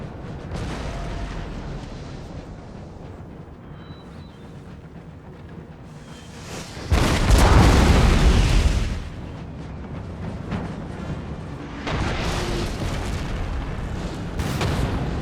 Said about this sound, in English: I'll bleed them out with artillery at this point